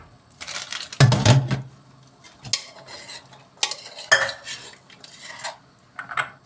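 Boiled beans tipped into a pot of cooked meat for Turkish dry bean stew, with a few sharp clatters of a utensil against the pot and soft stirring scrapes between them, close by and fairly loud.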